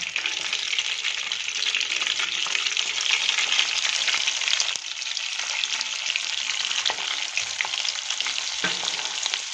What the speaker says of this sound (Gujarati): જીરુંને આપણે આમાં થોડું તતડવા દઈશું.